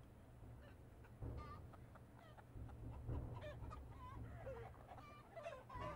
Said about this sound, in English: Oh god, look at those chickens.